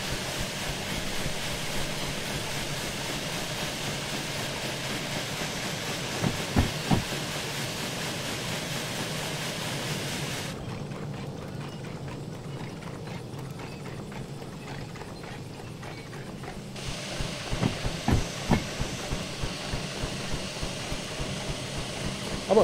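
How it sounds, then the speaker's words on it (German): A steam locomotive runs in the train game Derail Valley. It gives a steady broadband rumble and hiss with rhythmic mechanical knocks, which thin out briefly midway and then return. "Dass Dampfloks existieren."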